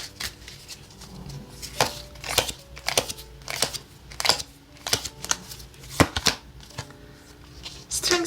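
Tarot cards being shuffled and laid out during a reading, heard as a steady run of close, sharp card slaps and flicks, with faint background tones beneath.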